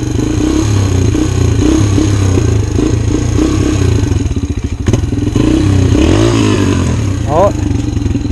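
Kawasaki KX 125 two-stroke dirt bike on a mud trail, its engine buzzing loud and close and rising and falling with throttle blips, along with some clatter and thumps from the ride.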